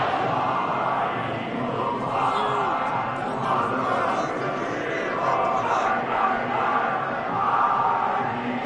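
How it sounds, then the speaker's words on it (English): Large home crowd at a Philadelphia Eagles football game cheering and roaring after a victory, a dense, sustained wash of voices that swells slightly toward the end. "And the home crowd applauding."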